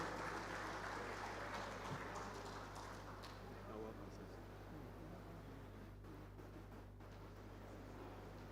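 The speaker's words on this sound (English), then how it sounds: "Clap for him." An audience at a Nigerian Society of Engineers fellowship conferment ceremony applauds, a faint, distant wash of clapping that slowly fades over several seconds.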